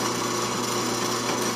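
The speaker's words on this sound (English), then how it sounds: "but I'm going to go ahead and drill it anyway." A power drill boring a hole through sheet metal held in a vise, giving a loud, steady, harsh grinding whir with constant noisy texture and a fixed motor hum, no talking.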